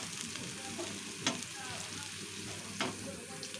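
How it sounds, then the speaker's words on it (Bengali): Onion, garlic and ginger paste fries in hot oil with a steady close sizzle, broken by a couple of brief stirring scrapes. "পেঁয়াজ রসুন আদা বাটাটা ছেড়ে দেবো"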